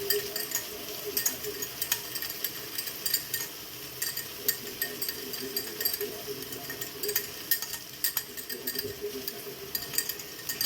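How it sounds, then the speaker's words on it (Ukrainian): Egg poured into a hot pan for breakfast, with a continuous hiss of frying and scattered light clinks and scrapes of a utensil against the pan, close and moderately quiet, with no speech. "вливаю яєчко"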